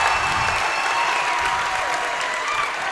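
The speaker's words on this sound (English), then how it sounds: "you have all the Genoa fans cheering" Genoa fans at a high school boys basketball game against Otsego cheer and applaud in a gym, a continuous dense roar of clapping and crowd noise.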